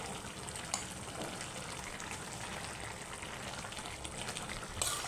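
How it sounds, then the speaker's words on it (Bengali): Water poured into a cooking pot over fish, a steady broadband gushing and splashing that runs evenly for about five seconds, with a small clink near the end. "এই যে মাছটা এখন জল দিয়ে দিচ্ছি"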